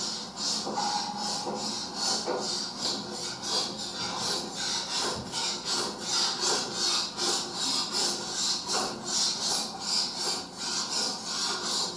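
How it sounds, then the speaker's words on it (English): Knife being sharpened in a horror film, a rhythmic rasping scrape repeating roughly twice a second in steady back-and-forth strokes, close and continuous with no talk over it. "the sharpening of the knife"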